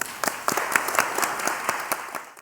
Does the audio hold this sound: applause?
yes